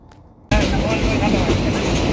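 Local commuter train from Mymensingh heading to the airport rail station, a loud steady rumble of the moving carriage that starts abruptly after a quiet moment.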